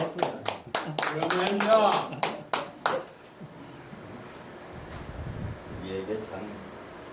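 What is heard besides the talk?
church congregation clapping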